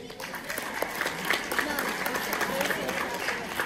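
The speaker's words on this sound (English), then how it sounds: "Gentlemen, clap it up for your parents." Parents are applauded at a varsity soccer awards event, with a steady crowd clapping of moderate loudness and scattered cheering voices mixed in throughout.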